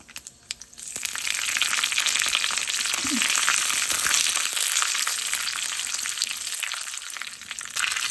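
Curry leaves and a bay leaf crackle and sizzle in hot oil for a tomato kuzhambu, a steady, close frying hiss that begins after a brief quiet start and runs to the end.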